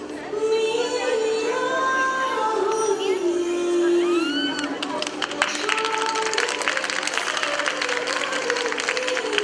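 Circus crowd bursts into thunderous applause as elephants enter the ring, a dense wall of clapping and cheering with children's shouts that swells in after a stretch of voices and music, loud and sustained to the end.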